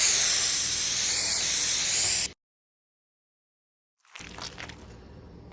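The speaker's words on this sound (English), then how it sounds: "you're gonna want to spray down all of your hair with water" A spray bottle mists water onto curly clip-in hair extensions in a steady hissing burst lasting about two seconds, then cuts to silence before a softer, rustling spray resumes, close and alone.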